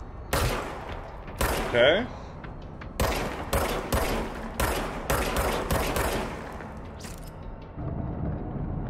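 Shots from the service weapon in the Control video game, sharp broadband cracks in uneven bursts and single shots, loud and close, with someone talking between them.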